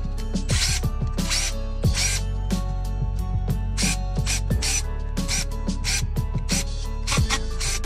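Taking apart the housing of a Milwaukee power tool produces sharp ratcheting clicks and scraping mechanical taps in quick irregular bursts, close and fairly loud over a constant low hum.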